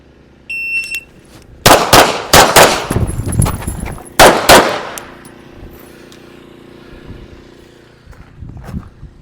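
Pistol shots fired on the move during a practical shooting drill at a range, loud sharp cracks in two quick bursts after a shot-timer beep, close by, followed by quieter shuffling.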